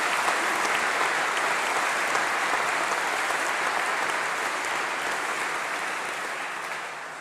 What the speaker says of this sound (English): So thank you, I think, to our international students. A huge round of applause.